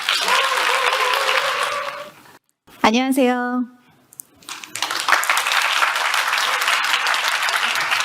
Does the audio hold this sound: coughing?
no